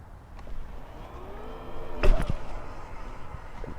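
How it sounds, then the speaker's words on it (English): A Biktrix Stunner X e-bike pulls away from a stop on throttle, its motor whine rising in pitch, with a brief clunk and scrape midway over low outdoor rumble. "Now I'm gonna hit the throttle, and you'll see what I'm talking about when I say torque."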